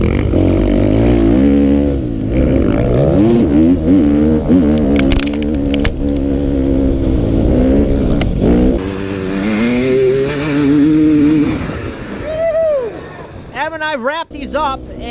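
Enduro motorcycle ridden through a sprint enduro course at Unadilla, 2018: a loud, close engine screams and wavers as the rider shifts and revs, fading and dropping briefly near the end before rising again.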